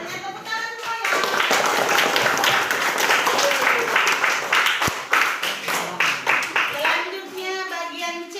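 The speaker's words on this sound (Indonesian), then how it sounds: "Tepuk tangan semuanya." Students in a science class clap together after a group presentation, brisk, close clapping with individual hand slaps audible, children's voices chattering through it, the claps thinning into scattered rhythmic beats toward the end.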